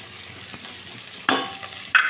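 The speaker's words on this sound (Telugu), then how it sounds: "ఇలా ఆనియన్స్ అయితే కొద్దిగా ఎర్రగా అవ్వాలండి" Onions fry in a pan with a steady low sizzle, while a few brief scrapes and clinks of stirring come and go close by.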